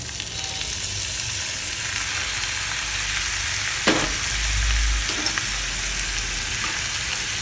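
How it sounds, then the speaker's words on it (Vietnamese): Apple snails stir-fried with garlic, lemongrass and chili give a steady close sizzle with soft stirring scrapes and a brief clatter near the middle. "xào tỏi với sả ớt rồi cho thơm lên. Rồi giờ thơm rồi đó các bạn ơi, giờ mình cho nó vào đây ha"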